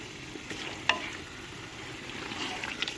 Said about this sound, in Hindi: इसको इसी तरह से हम बिल्कुल लो आंच पे जो है वो भूनेंगे